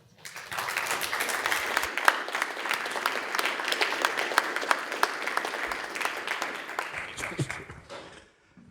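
An audience applauds a welcomed speaker with dense, steady clapping that starts quickly, holds at an even level for about seven seconds with a few sharp claps standing out, and then fades away.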